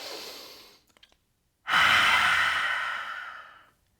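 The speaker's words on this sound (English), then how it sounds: "Take a full inhale and exhale." Two breaths during a yin yoga practice: a soft inhale, a brief pause, then a long, loud, airy exhale lasting about two seconds, close up and alone.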